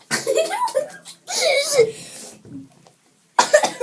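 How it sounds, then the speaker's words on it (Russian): A couple of short coughs break through giggling, muffled talk from a child nearby, with a brief quiet pause before more voices. "Я кашлянуть захотел."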